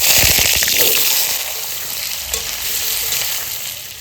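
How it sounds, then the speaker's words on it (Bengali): Potatoes frying in hot oil, a loud close hissing sizzle with bubbling and crackle that eases slightly after the first second and then holds steady. "এবার আলুটা ভেজে নেব"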